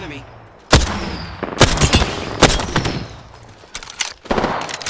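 Gunfire in the shooter game Apex Legends: sharp, loud bursts of shots in irregular clusters, some rapid and overlapping, with faint background noise between volleys.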